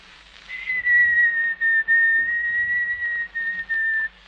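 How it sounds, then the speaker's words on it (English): A person whistles a song, a clear, close, sustained melody with brief breaks between phrases, alone without talk. "Whistle. Whistle what?"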